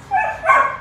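A dog barks and yips twice in quick succession, close and fairly loud, with a whimpering, high-pitched tone and no talk over it.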